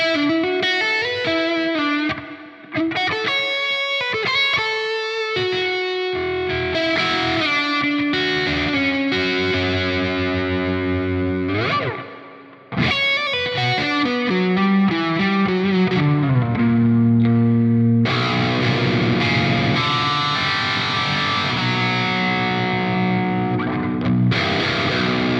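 Electric guitar through a Revv G3 distortion pedal with layered effects, playing chords and melodic lines continuously and loudly, with two brief pauses.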